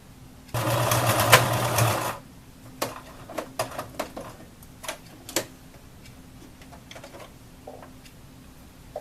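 A sewing machine stitches fabric onto the flap of a Tunisian wallet: a loud, dense burst of rapid stitching for about a second and a half, then scattered sharp ticks and clicks of handling.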